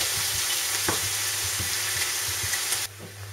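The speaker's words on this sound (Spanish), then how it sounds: "bajaremos la temperatura para que la cebolla se vaya pochando" Onion frying gently in a pan on lowered heat for chicken tikka masala, a steady close sizzle with light scraping stir knocks, cutting off abruptly near the end, no talk.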